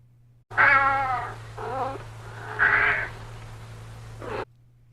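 A cat lets out three drawn-out meows in a row, the first and last loud and strained, the middle one softer, heard close up over a steady low hum with nothing else present.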